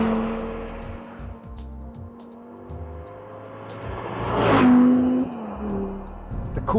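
Audi R8 V10 with a 5.2-litre engine, a steady engine note rising into a loud rev or pass-by swell midway before settling back, heard alone with no talk.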